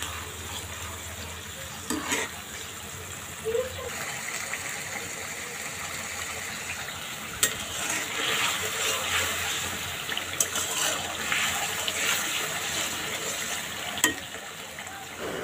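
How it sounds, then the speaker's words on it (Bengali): Onion and ginger-garlic paste sautéing in a pan for a Bengali white chicken curry, a steady broad sizzle with soft stirring scrapes and occasional sharper clicks of a utensil against the pan, close and moderate in level throughout. "এই পর্যায়ে পেঁয়াজ এবং আদা রসুন বাটা কিছুক্ষণ কষিয়ে নিচ্ছি।"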